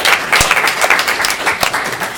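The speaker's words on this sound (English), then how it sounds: "Applause for him." Audience applause at a developer conference talk, a short burst of scattered clapping from a crowd with a few sharper individual claps, moderately loud and fading slightly.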